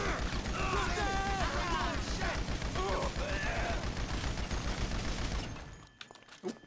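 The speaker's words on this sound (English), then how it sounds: "Oh, reloading." A weapon reloads in a shooter video game, with mechanical clicks and ratcheting rattles over bursts of gunfire, while someone talks throughout. The sound fades away near the end.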